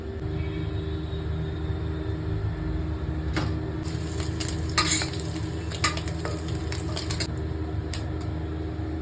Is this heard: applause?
no